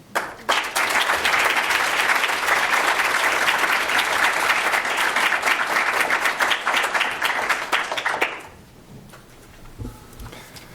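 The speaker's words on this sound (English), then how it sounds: "Thanks all of you for that really warm round of applause." A warm round of applause from a crowd at a gala, dense and steady for about eight seconds before quickly fading away.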